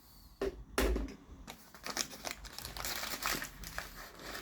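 Crinkling plastic packaging is pulled open on an old, decades-aged tea package, with sharp rustles and crackles coming close and irregular, a loud crunch near the start, then steady handling noise with no talk.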